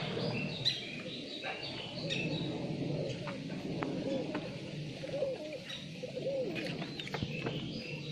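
Low, soft cooing from a Green Eyes Kalduma pigeon in short bursts amid a busy background of chirps and faint room noise inside a pigeon loft, no talking.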